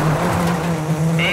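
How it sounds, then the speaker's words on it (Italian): Rally car engine in the WRC 9 racing game, a steady loud drone with a constant low hum and a brief high whine near the end. "subito il sound del motore ci fa capire che qualcosa di diverso c'è"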